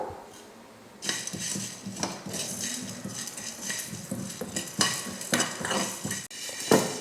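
Metal utensil scraping and clinking in a pan as whole spices (cloves, cinnamon, cardamom) are dry-roasted, stirred and tossed, with faint sizzling throughout; no talking.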